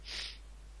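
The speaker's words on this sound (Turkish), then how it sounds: "Ah bir de burnumu çekip durmasam." One short nasal sniff, close and faint, a single quick intake of air through the nose with quiet around it.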